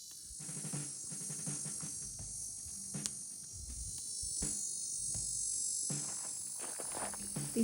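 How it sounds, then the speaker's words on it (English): Outdoors at Chino Mesa, New Mexico, a steady, high-pitched cicada drone fills the background continuously, with faint clicks and thumps nearby. "These cicadas sure are loud."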